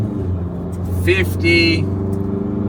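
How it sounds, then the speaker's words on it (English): Foton Tunland V9 diesel pickup engine accelerating under load while towing, a steady low rumble that holds throughout beneath someone talking close by. "Motor's not too loud, but it is a diesel."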